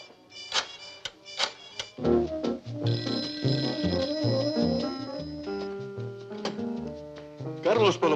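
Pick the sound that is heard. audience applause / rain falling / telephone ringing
telephone ringing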